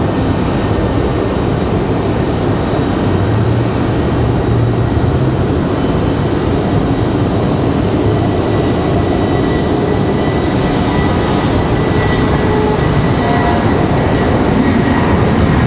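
A Spirit Airlines jet airliner departs from Raleigh Durham airport, a loud, steady, broad engine roar that holds for about fifteen seconds with no break.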